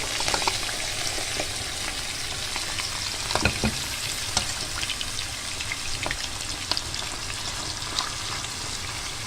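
Liver frying in hot oil in a pan, a dense continuous crackling sizzle with scattered pops and occasional clinks of a utensil, close and fairly loud.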